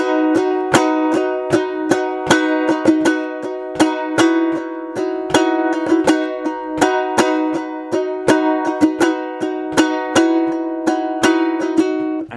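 A ukulele plays the intro of a song, a steady strummed pattern of bright chords with a low sustained drone, moderately loud and alone, with no voices.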